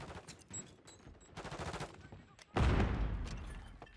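Automatic gunfire from a Modern Warfare 3 match, rapid bursts crackling at moderate distance, then a louder close volley toward the end.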